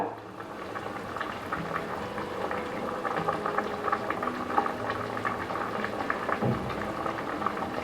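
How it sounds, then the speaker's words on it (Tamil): Egg biryani mixture coming to a boil in a pressure cooker, a steady close bubbling and simmering that runs continuously and evenly throughout, with no talking. "இப்போ ஒரு கொதி வர ஆரம்பிச்சிருச்சு"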